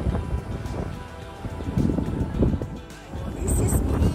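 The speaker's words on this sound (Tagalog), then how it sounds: "very windy" Strong wind buffets the microphone by a riverside marina, a loud continuous rumbling roar with gusts that swell and ease, while a person talks underneath.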